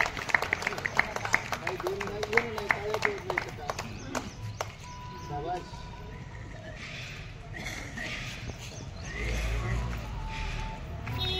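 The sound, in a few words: group clapping applause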